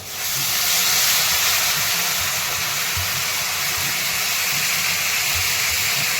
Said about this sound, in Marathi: आता पाणी ओतून घेतो यामध्ये